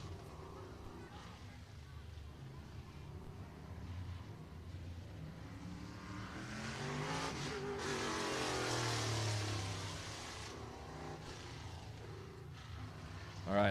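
A race car runs a lap at F8 Showtime Speedway in Pinellas Park, Florida, its engine rising to a distant roar midway and then fading, heard faintly over a low background rumble.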